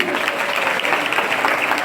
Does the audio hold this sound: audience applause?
yes